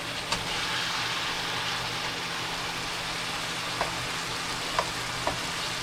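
Ground beef sizzles in a hot pan for homemade chili: a steady, close frying hiss that runs throughout, broken by a few sharp pops and spatters.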